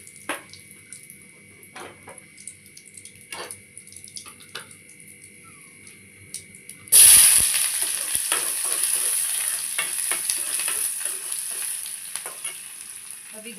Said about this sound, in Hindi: जीरा डाल दिया, थोड़ी सी डाल दिया हींग